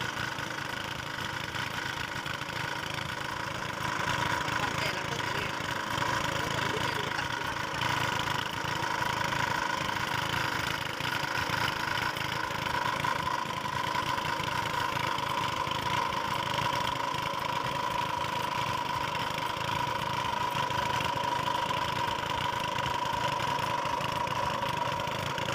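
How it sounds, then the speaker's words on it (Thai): A boat engine runs steadily the whole time while riding on the Xe Lanong river, a constant mid-pitched drone with a faint rattle and no talk. "ขี่เรือเข้าไป"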